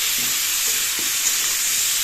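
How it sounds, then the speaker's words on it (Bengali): Continuous hissing sizzle of fish frying in hot oil, steady and close, with a faint scrape or two of stirring and no talking. "আর মাছগুলো দেখো ভাজা হয়ে গেছে।"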